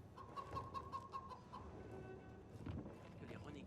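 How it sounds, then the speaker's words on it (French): A chicken in the video game Dying Light 2 clucks in a quick run of short calls over steady game ambience and background noise, fairly close and moderately loud, with no talk heard. "Oh, il y a une poule!"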